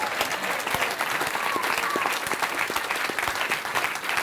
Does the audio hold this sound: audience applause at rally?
yes